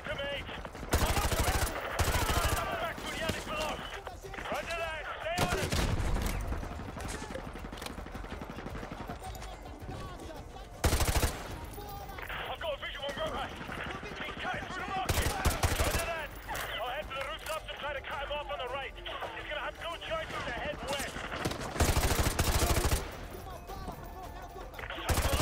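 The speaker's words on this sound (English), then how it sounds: "So there is a dude down there shooting me." An enemy fires at the player in the remastered Call of Duty: Modern Warfare 2 campaign, producing loud, repeated bursts of rapid automatic gunfire with heavier shots in between.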